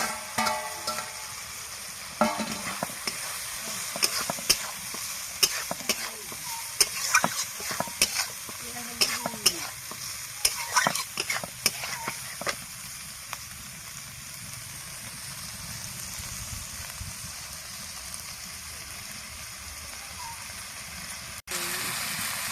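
Pond snails crackle and sizzle in spiced masala in a pan while a utensil stirs and scrapes against the pan in repeated clattering strokes, with a continuous frying hiss beneath.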